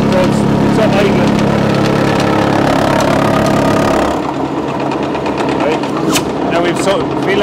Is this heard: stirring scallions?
no